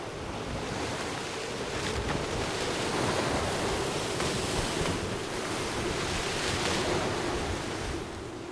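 Ocean waves roaring in open cold, rough water, a constant loud wash of surf mixed with wind buffeting the microphone, swelling slightly at times with no voices.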